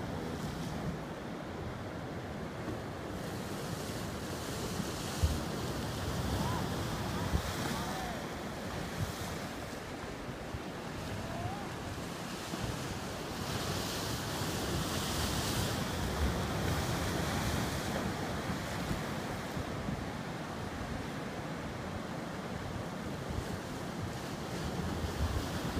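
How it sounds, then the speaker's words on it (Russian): Surf rolls in continuously on a city beach in Valencia, Spain, a broad wash of breaking sea waves mixed with wind buffeting the microphone, fairly faint and steady with no voices. "Волны."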